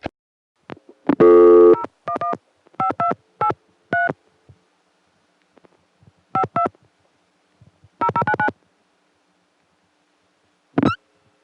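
Touch-tone telephone keypad tones dial a Monterrey exchange in short bursts of clear beeps, separated by pauses, with one more tone at the end; no voices.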